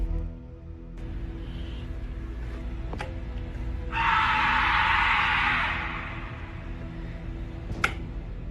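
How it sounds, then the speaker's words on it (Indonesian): A hoarse, drawn-out scream rises for about two seconds against a quiet outdoor background, with a couple of sharp clicks before and after. "Terdengar jeritan serak menakutkan bergema di udara."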